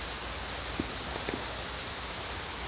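Steady rain falling on leaves outdoors, a dense even patter with a few louder drops, constant and close, with no talking.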